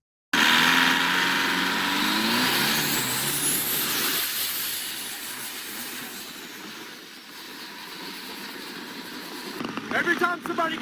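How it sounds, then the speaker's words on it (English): A longtail riverboat with a car engine strapped on races along a river in Bangkok, its motor roaring loud and close, then fading and holding as a steady drone with water rush, before clattering noises at the end. "they essentially strap car motors to very small boats and go very fast on the"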